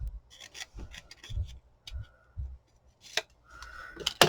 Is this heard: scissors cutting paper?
yes